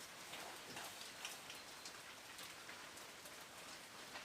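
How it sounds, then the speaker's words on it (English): Steady rain falls on a bush trail near a cave, making an even, soft patter of drops on leaves and ground. A few drips stand out faintly, and no voices are heard. "Still raining."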